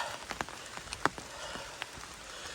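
Rain falls on a foggy mountain trail of the Appalachian Trail near Bruiser's Knob: faint, steady patter with scattered sharper drops, low and continuous throughout.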